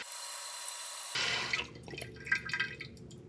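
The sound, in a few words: water running into toilet tank after flush valve replacement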